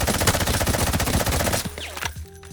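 A budget rifle in the shooter game Delta Force fires a rapid full-auto burst at the practice range, loud and close, for about a second and a half before cutting off into a brief mechanical tail.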